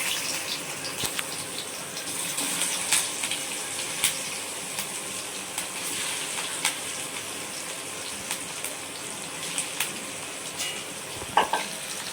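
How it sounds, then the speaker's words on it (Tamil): Marinated fish frying in boiling oil for a Tamil fish curry meal, a steady close crackling sizzle running the whole time with scattered pops and a few clatters toward the end, no talking. "இப்போ பொரிக்க போகிறாங்க அம்மா. எண்ணெய் கொதிச்சோடனே பொரிப்பாங்க."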